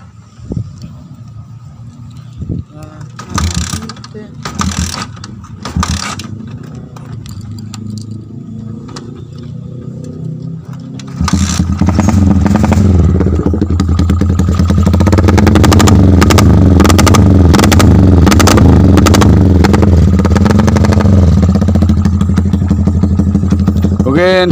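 A Yamaha Vixion motorcycle engine is cranked and sputters unevenly before catching, then idles loudly and revs up close by in a steady, rough rumble, with people talking in the background.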